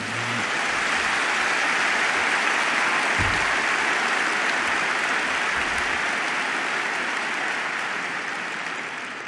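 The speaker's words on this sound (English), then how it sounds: "Now you can go wild with applause for the group." An audience at the 2010 Berkshire Hathaway annual meeting applauds, a dense, steady wash of clapping from a large crowd that holds for several seconds before tapering slightly.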